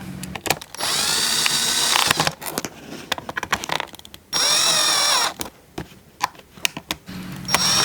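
A power screwdriver tightens screws on a Flysky remote control. It makes two sustained whirring runs, each about a second and a half, close and loud, with clicks and handling knocks of plastic parts between them.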